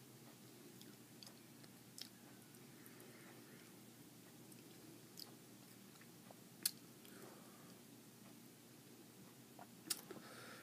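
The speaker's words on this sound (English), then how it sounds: "as I'm chewing it up" Someone chews a crunchy Red Monster hot pepper pod close up, soft quiet crunching with a few sharper clicks spaced over several seconds, no talking.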